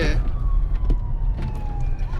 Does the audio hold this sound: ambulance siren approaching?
yes